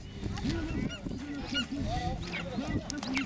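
A noisy flock of geese honking over one another, dense and continuous, with a few voices talking faintly in the background, at a festival in Mongolia.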